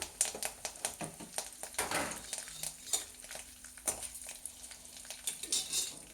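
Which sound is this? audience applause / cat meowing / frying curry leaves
frying curry leaves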